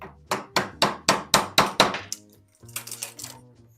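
A hammer strikes a larger chisel into wood in a quick run of about eight sharp, close blows, then pauses before a few lighter, clinking taps follow.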